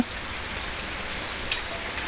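Steady rain falls on a Thai farm on a cold, wet day, a constant fine hiss of drops with scattered brighter taps on surfaces, heard alone with no talk.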